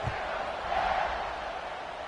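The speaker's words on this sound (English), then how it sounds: "this crowd is buzzing after that last score" A stadium crowd at a football game keeps up a broad, steady buzz after a scoring drive, with a distant roar that never breaks out into distinct voices.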